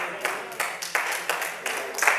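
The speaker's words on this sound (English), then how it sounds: "I got 3 hand claps." Hand claps from a church congregation during a sermon, a run of about seven sharp, fairly even claps at a steady beat, fairly near and alone without speech.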